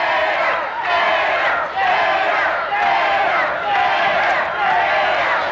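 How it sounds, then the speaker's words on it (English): Crowd at a 1990 IWA wrestling show chanting for the Gator, about five rhythmic swells of loud massed yelling in an echoing arena. "Crowd yelling for the Gator."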